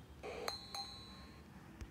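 Two quick bright glassy clinks ringing out briefly, an Android phone's glass notification chime, quiet and close with no voices.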